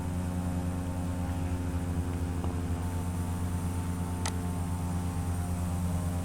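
A Cessna C208 single-propeller aircraft in the flight simulator FSX drones at takeoff power with a steady, loud engine hum and propeller buzz, plus one brief high click partway through.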